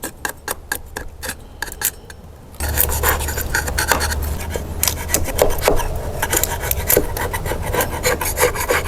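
Metal scraper rasping flaking, peeling paint off a surface in quick repeated strokes, close and loud, turning into a steady rough scrubbing with no talking.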